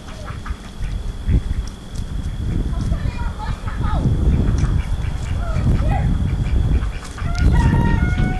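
Ducks quack and fowl cluck over steady outdoor noise, with a few sharp calls standing out.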